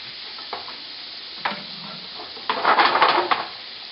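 Garlic sizzles in a hot pan as a utensil stirs it, with a few scrapes against the pan and then a louder burst of frying and stirring near the end.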